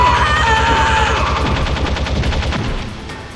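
Rapid automatic gunfire in Metal Gear Solid, a dense stream of regular shots that fills the clip at close range and tapers off slightly at the end.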